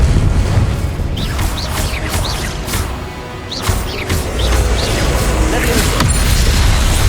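Confringo fire spells in the Hogwarts Legacy video game burst in loud, rumbling blasts one after another over dense, continuous battle noise.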